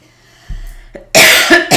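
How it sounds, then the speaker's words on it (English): A sudden loud cough bursts out close to the microphone after a couple of softer throat sounds, with no talking. "I'm about to cough, so I'm going to cut my mic off"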